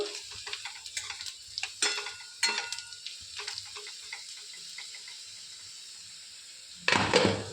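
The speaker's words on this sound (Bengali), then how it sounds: "আর এদিকে হচ্ছে আলু ভাজা" Potatoes frying in a pan, with soft sizzling under scattered clinks and scrapes of a utensil against the pan, fairly quiet and close, ending in a louder burst of sizzle.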